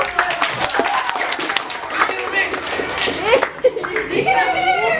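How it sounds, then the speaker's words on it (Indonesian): A classroom of students claps hands together, a close, loud burst of quick claps that quickly turns ragged and fades into children's chatter and a teacher's voice. "tepuk tangan dulu"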